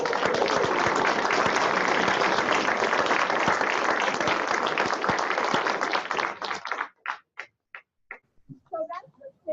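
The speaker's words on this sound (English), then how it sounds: "Let's give them a huge round of applause." Loud, dense applause from a crowd, sustained for several seconds before breaking into a few scattered, tapering claps.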